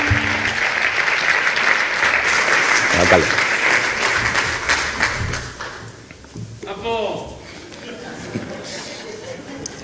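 An audience at a short-film festival gala in Noia applauds the town's mayor, full steady clapping that thins out partway, with a voice speaking briefly over it near the end.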